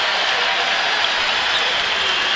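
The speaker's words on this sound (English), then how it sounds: "Iowa State fans here in attendance really on their feet applauding" Iowa State fans on their feet in a March Madness college basketball arena keep up a broad, even wash of applause, loud and sustained from start to finish with crowd noise blended in.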